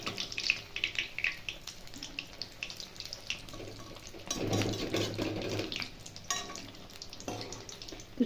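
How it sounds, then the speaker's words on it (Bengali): Aloo chop potato fritters frying in hot oil give off a steady, close crackling sizzle that swells to a louder bubbling burst midway, then settles back, with no talking. "এক দিকটা এখন উল্টিয়ে পাল্টে ভালো করে লাল লাল করে ভেজে নেব।"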